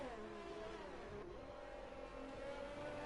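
Ferrari race cars in a racing video game roar through the Monaco tunnel, engines droning loud and steady with shifting pitch as they pass one after another, no voices.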